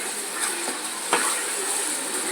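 Tomatoes sauté in a pan for seeraga samba chicken biryani with a steady, close hiss and a single stir knock partway through.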